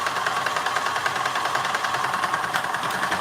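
A sewing machine runs continuously with a steady, close mechanical whir and a fast rhythmic ticking from the needle, with no voices over it.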